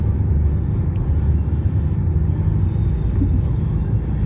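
Peugeot 3008 2024 hybrid car climbing a steep hill under acceleration, a steady loud low engine and road rumble filling the cabin throughout, with no voices.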